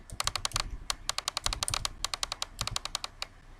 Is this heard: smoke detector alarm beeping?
no